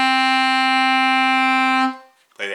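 An alto saxophone holds a steady A for nearly two seconds, rich and close, stopping abruptly before a short burst of breathy noise.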